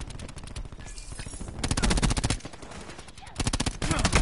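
Cordite gun in a shooter video game fires rapid automatic bursts, loud and close, broken by short pauses, with faint voices talking underneath.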